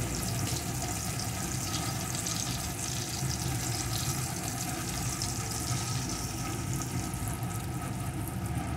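An egg frying in a pan alongside bitter gourd, giving a steady, close sizzle with a faint watery hiss that carries on evenly throughout, with no voices.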